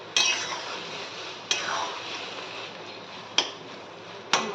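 Eggplant bharit being mixed with fried peanuts and chopped coriander, with a few sharp spoon-on-pan clinks at intervals over a soft scraping stir, close by and with no talk.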